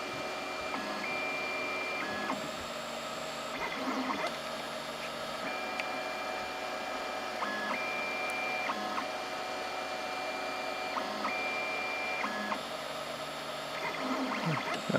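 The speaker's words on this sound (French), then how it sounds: "Ensuite, il va imprimer la pièce." A Tevo Tarantula 3D printer with dual Titan extruders runs steadily and quietly, its stepper motors whining in repeated short tonal patterns over a constant low hum.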